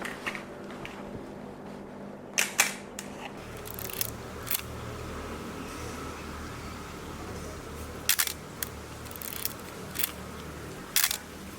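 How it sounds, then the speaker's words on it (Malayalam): Old film camera shutter firing, a few sharp mechanical clicks in close succession near 2.5 s, then single clicks around 4 s and 8 s and a final one near 11 s over a faint room hiss, with no voices. "ഇത് പഴയൊരു ഫിലിം ക്യാമറയാണ്. ഷട്ടറിന്റെ പ്രവർത്തനം വളരെ എളുപ്പത്തിൽ ഇതിലൂടെ മനസ്സിലാക്കാം."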